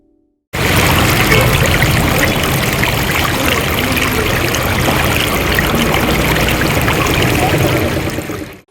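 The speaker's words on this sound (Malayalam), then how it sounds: "ജില്ലാ ആശുപത്രി റോഡിൽ പൈപ്പ് പൊട്ടി ജലം പാഴാകുന്നത് തടയാൻ അറ്റകുറ്റപ്പണിക്കാണ് തുടക്കമിട്ടിരിക്കുന്നത്." Water gushing steadily from a burst pipeline on a hospital road in Tirur, a loud, continuous broadband rush that holds unbroken for about eight seconds with no voices.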